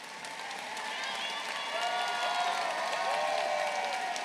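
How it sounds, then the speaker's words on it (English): Commencement audience applauding graduating students, a dense, steady wash of clapping from a large crowd that swells and holds at a constant level throughout, with faint cheering mixed in. "Let's give these students a round of applause."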